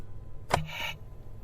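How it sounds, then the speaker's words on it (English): A spacesuit being turned on, recorded in space: a quick burst of noise followed by a short electronic hum and whir that holds for a moment, then cuts off cleanly. "the sound of turning on a spacesuit"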